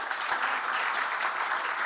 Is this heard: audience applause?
yes